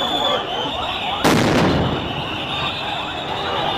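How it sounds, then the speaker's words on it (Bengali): Sound grenade going off during a police crackdown on a teachers' sit-in protest on a road, with water cannons in use: one sharp loud burst above constant crowd noise and background commotion. "sound grenade ফুটিয়েছেন"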